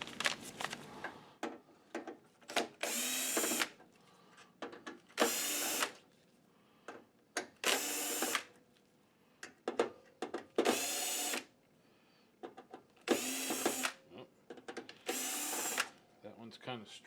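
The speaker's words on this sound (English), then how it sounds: "Then we'll take out these screws and just flip that plate over." A power screwdriver removes screws from a plate in a Digital Projection HIGHLite 330-3D-HC projector's illumination module, whirring in six short bursts of about a second each, close and loud, with quiet clicks and handling between them.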